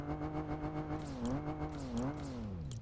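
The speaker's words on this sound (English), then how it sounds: "It's got a good engine sound." Engine of a Bronco SUV in Fortnite revving steadily, its pitch rising and dipping in two swells before sliding lower, with faint clicks on top and no talking.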